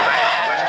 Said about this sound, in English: Kev Bateman is now right in the tail of Nicholas Barton as they accelerate on towards Surtees